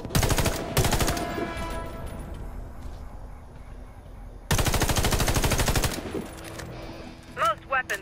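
Automatic weapon fire at targets on a shooting range in the video game Warface: two short bursts at the start, then a longer sustained burst later, loud and close, with weapon-handling clicks between.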